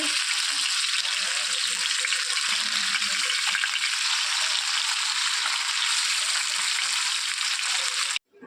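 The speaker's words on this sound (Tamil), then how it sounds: "வறுத்து மீன் நல்லா ரெடி ஆகிட்டு" Fish frying in a pan, a loud, steady sizzle holding evenly close-up before stopping sharply at the end.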